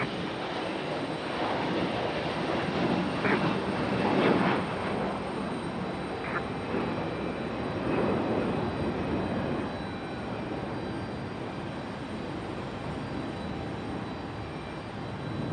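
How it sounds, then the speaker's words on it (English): An Air France jet airliner pushes back at Raleigh-Durham airport on a stormy night, its engines a steady, broad roar heard from a distance that swells slightly and then holds. "There she goes, finally. Air France on the push."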